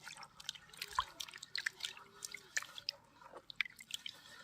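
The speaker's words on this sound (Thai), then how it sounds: "แล้วก็บี้ผสมกับน้ำไปเลย" Trichoderma fungus being crushed and mixed into water by hand, giving soft wet squishes and scattered close drips and splashes through the whole stretch, faint and irregular.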